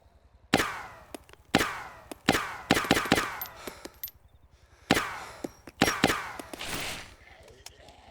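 Sharp gunshots in the DayZ game crack out loud and close in irregular bursts, roughly a dozen reports spread over several seconds, each one trailing off into a short echo.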